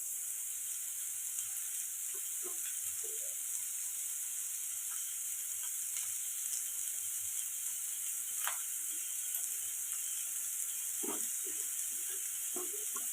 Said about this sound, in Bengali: দেখো পেঁয়াজটা একটু ভাজতে দিয়েছি, পরিমাণ মতো একটু নুন অ্যাড করে দেবো পেঁয়াজে।